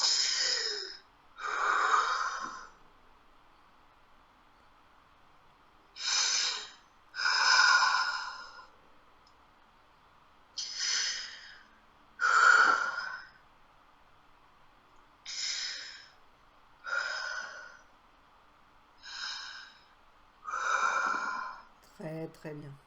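Deep, deliberate breaths taken by a person during a coaching session, about ten long inhale-exhale bursts spaced a couple of seconds apart, close and fairly quiet with near silence between them.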